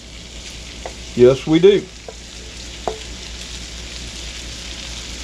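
Strips of beef added back into a pepper steak stir fry with translucent onions, frying with a steady close sizzle throughout while a voice briefly speaks over it early on.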